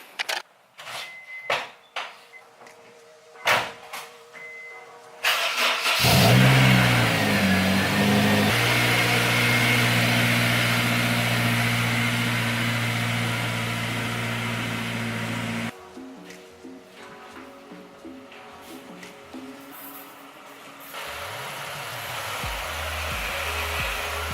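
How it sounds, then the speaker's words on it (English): A Lexus S2 car engine starts and revs as it backs out of a garage, a steady loud mid-pitched drone after clunks and knocks, shifting tone midway and settling into a lower idle near the end. "I'm gonna go ahead and back out my S2 right now"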